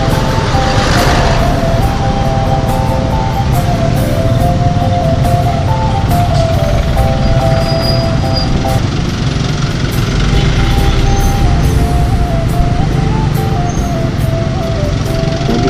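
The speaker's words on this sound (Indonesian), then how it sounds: "Nah ini jadi macet." Dense, loud engine drone of vehicles idling and crawling in a long traffic jam on a road into a city, steady and continuous with rumbling motors close by and no clear talking.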